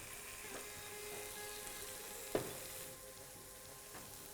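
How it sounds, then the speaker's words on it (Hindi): Tomato masala gravy frying in ghee for chicken curry, giving a faint, steady sizzle throughout with one sharp clink of a utensil partway through. "उसमें थोड़ा सा मैंने घी डाला। उससे दो काम होंगे, एक दो खुशबू बेटर होगी और दूसरा मसाले के भुनने में और मदद होगी।"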